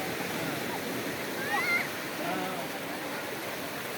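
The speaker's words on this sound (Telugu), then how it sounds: "ఇదే సముద్రము" Sea waves wash steadily onto the seashore at Somnath, Gujarat, giving a continuous, moderately loud broadband rush, with a faint distant voice or whistle briefly rising above it.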